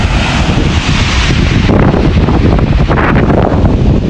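Strong wind roars continuously around a van and buffets the microphone with loud, rumbling gusts; no voices are heard.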